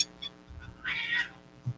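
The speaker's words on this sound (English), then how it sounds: "cats fighting right now" Cats fight nearby with a short meowing yowl and a few smaller cries and thumps, brief and fairly close, with no talk over it.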